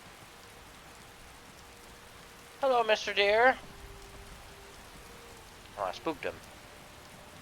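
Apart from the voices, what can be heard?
rain in the video game Skyrim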